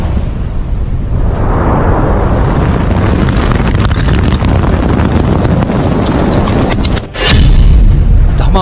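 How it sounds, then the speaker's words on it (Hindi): Steady roaring wind buffets the microphone for several seconds before a sudden deep missile explosion booms out, followed by a heavy lingering rumble. "एक के बाद एक 3 मिसाइलें टारगेट पर छोड़ी जाती हैं"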